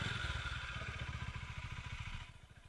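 A Honda Highness CB 350 single-cylinder motorcycle engine thumps in a quick, even rhythm, close and steady, with a bright mechanical hiss above before the upper noise drops away near the end.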